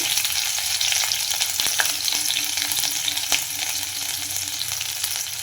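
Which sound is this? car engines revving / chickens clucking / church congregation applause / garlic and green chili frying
garlic and green chili frying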